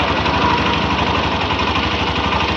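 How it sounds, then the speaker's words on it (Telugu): A KTM-style NS motorcycle with a straight engine idles close by, a loud steady rumble with a faint chattering rattle running through it, alone with no talk. "ఇది ఇంజన్ సౌండ్. కొంచెం చిల్ చిల్ చిల్ చిల్ అని సౌండ్ వస్తుంది"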